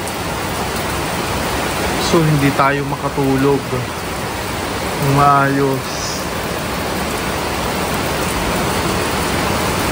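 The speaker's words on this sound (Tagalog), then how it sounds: "Ayan po, sobrang lakas po ng ulan." Heavy rain roars in a steady, dense hiss throughout, while someone talks over it in short stretches.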